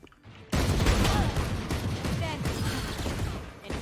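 Rapid bursts of gunfire in the Valorant shooter, starting abruptly and sustained loud and dense for several seconds, with sharp cracking shots layered over each other.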